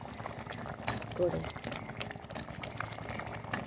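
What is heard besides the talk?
fried bhetki fish simmering in poppy-mustard gravy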